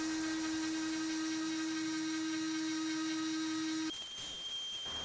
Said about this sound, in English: Did a lot of sanding